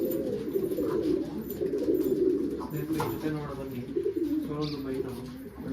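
Pigeons coo steadily in a loft, low rolling calls repeating and overlapping throughout, close and fairly loud, with a few faint chirps above them.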